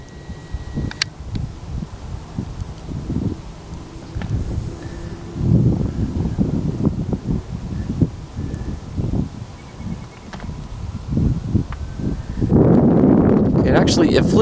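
Wind blows steadily across an outdoor rocket launch field, rumbling into the microphone as low gusts that swell and fade, heaviest near the end, with faint voices talking in the background.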